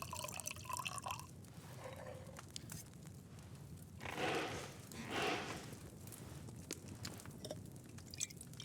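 Liquid poured in a medieval city video game, a soft trickling splash that swells in two short bursts against a faint low background, with no talk over it.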